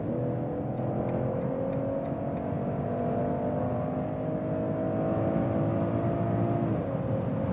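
A BMW 540i inline six-cylinder engine pulls hard in sports mode from about 120 km/h, its tone rising steadily before a brief dip near the end, heard from inside the car over road noise.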